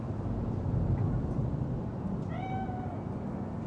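A single cat meow in the Cyberpunk 2077 video game, a clear rising and falling cry lasting under a second, heard over a steady low ambient rumble of the game's city.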